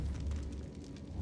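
A Bombarda spell blast in Hogwarts Legacy, a short, heavy, rumbling explosion with deep low-end roar and crackling debris, loud and close, lasting about a second.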